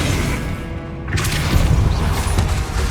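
A Confringo explosion spell from Hogwarts Legacy bursts with a loud booming blast mid-clip, over a continuous rumbling battle background with crackling debris.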